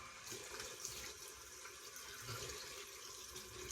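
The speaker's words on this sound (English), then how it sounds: "Cold water rinse" Cold well water runs from a tap for a rinse during a wet shave, a quiet, steady splashing stream with no pauses.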